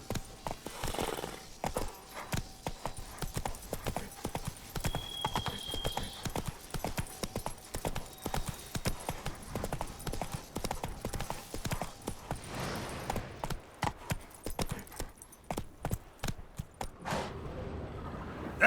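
Roach, Geralt's horse in The Witcher 3: Wild Hunt – Blood and Wine, gallops with rapid, close clip-clop hoofbeats throughout, a faint whinny along the way, easing off toward the end.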